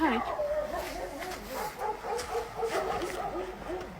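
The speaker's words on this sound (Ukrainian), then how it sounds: "Рей, друзі твої гавкають." Several dogs bark and yip in the middle distance, a repeated irregular run of barks with some whimpering, heard alone against a quiet indoor background.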